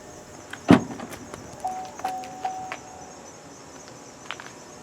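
A 2018 GMC Terrain's hands-free power liftgate starts with a sharp thump, followed by a quiet motor whir and soft mechanical clicks as the gate rises.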